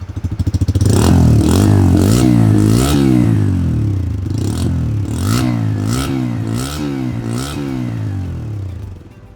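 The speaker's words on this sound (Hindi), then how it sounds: "अब इसको रैव करेंगे।" A Bajaj Freedom 125 CNG motorcycle engine idles and then revs repeatedly, rising and falling in a series of throaty bursts, close and loud with no talking.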